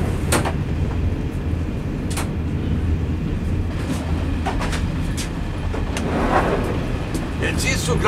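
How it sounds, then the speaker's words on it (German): A 1981 East German passenger train with a dining car rumbles along in a steady, continuous roar with occasional clicks and rattles, heard from inside the carriage. "der Zug fährt aber weiter"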